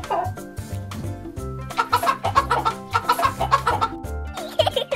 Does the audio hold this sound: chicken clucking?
yes